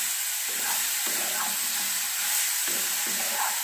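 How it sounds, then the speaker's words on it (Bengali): Grated ginger is stirred into pickle masala frying in a pan. It gives a steady sizzle and hiss, with short scraping pulses from the stirring. "গ্রেট করে রাখা আদাটা আমি দিয়ে দিলাম, দিয়ে মিশিয়ে দিলাম।"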